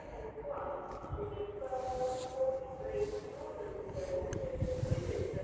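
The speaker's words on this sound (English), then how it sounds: "now pulling in behind me is a LNER Azuma service from Edinburgh Waverley to London King's Cross" An LNER Azuma service from Edinburgh Waverley to London King's Cross rolls into York station, its steady rumble joined by tonal whines and brake squeals close by, with a voice speaking over it.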